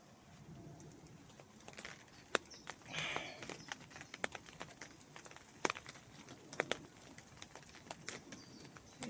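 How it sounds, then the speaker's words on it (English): Rain falling in a forest, heard from under a shelter, with scattered drips and taps over a soft steady patter, fairly quiet throughout. "Listen to the rain for a little while."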